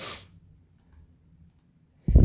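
Two short bursts of computer mouse clicking, one at the very start and one at the end, as a red fill colour is applied to areas in a drawing program, with near silence between them.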